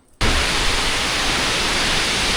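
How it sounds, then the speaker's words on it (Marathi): Strong wind and heavy monsoon rain in coastal Konkan, a dense, loud hiss that bursts in suddenly after a quiet moment and holds steady and roaring to the end. "काय पाऊस आलाय आणि वारा वगैरे आलाय ना, जोरात आला एकदम."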